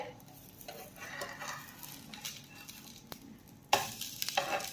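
Thalipeeth, a fasting-style flatbread, sizzles in oil on a pan: a steady low frying crackle with soft scraping, then a sharp louder sizzle as it is flipped over.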